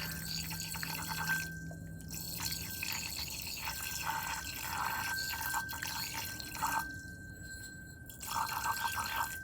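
Water added to a silver test sample to redissolve it, giving a steady trickle with intermittent drips throughout at moderate level.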